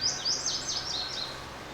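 High, bright bird chirps and trills ring out repeatedly outdoors, loud and close, over the faint low rumble of a tractor.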